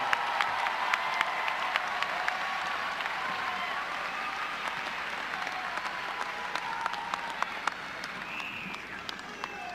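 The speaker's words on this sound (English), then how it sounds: "Please join me in another FAMU round of applause for your commencement speaker for 2018." A large outdoor crowd at a FAMU spring 2018 university commencement claps steadily in sustained applause after the speaker finishes, a dense wash of hand claps with scattered louder pops and faint cheering throughout.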